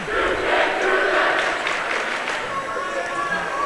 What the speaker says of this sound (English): puts out one of the classic cheers heard in all levels of basketball